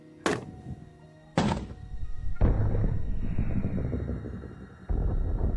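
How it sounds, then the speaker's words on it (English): A black powder charge packed into a block of clay is set off, giving two sharp thuds followed by a loud, sustained rumbling blast that carries on for several seconds, with no talking. "Okay, black powder into clay. Fire in the hole! 3, 2, 1."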